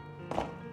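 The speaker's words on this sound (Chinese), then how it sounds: "改刀切成大小均匀的块儿" A knife chops through cauliflower on a cutting board, giving one soft, dull thunk that stands alone against a quiet kitchen background.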